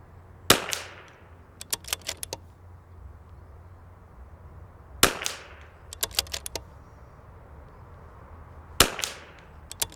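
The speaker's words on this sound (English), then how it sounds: "We're gonna shoot the left target" Three sharp, loud .22LR rifle shots fired with ELEY match ammunition at an outdoor range, spaced a few seconds apart. Each crack is followed by a trailing echo and a quick series of faint metallic clicks as the rifle is cycled.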